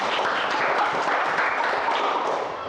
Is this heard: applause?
yes